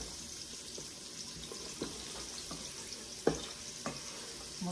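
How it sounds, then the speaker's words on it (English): Celery and onions sautéing in a pot on lowered heat for Italian meatball soup, a steady soft sizzle with a few sharp clicks and scrapes of stirring, no talking. "We'll give those a really good stir. And while I have those sauteing"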